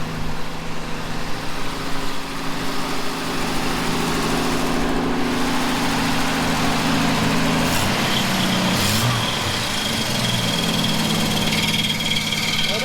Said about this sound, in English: Noise you're hearing, gang, it's actually the alternator.